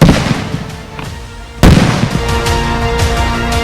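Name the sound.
bomb blasts during training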